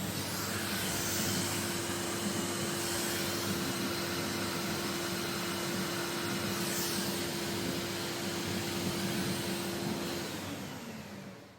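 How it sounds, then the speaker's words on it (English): A vacuum cleaner runs steadily and close, sucking dust and debris out of the motor of a Festool TS55 circular saw with a continuous whooshing roar and a faint whine before it tapers off at the end. "so we'll give that a little vac."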